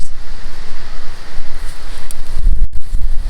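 Gusty Oklahoma prairie wind buffeting the microphone in a garden, with rough low rumbles rising and falling in irregular waves and some faint rustling.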